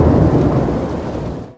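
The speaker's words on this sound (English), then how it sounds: "you see the lightning and then you hear the thunder so many seconds later" A loud rumble of thunder from a thunderstorm rolls and fades over about a second and a half, with rain noise beneath and no voices.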